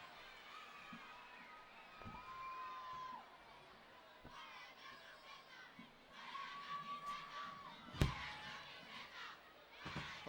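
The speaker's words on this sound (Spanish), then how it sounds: "Aquí gritan fuera camiseta." Concert crowd in an outdoor bullring in Teruel, Aragón, shouting and chanting for a performer to take his shirt off; a faint, distant roar of many voices with rising whoops and a sharp peak near the end.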